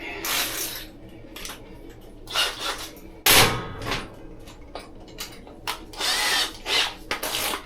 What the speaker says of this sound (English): And now we just put the screws back in the bottom.